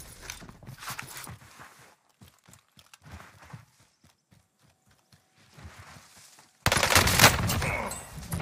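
Owen submachine gun fired in Warzone, a burst of rapid shots in the last seconds, loud and dense, after sparse clicks and footsteps.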